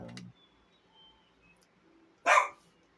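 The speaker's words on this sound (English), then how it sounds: "the incessant barking, because she won't shut up" A single sharp, loud dachshund bark rings out close by after a short yelp, with near silence in between.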